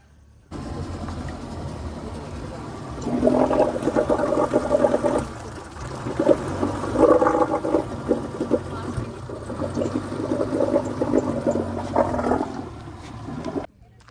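Boat engine droning with water rushing around the hull, a steady roar that swells and churns for several seconds before cutting off.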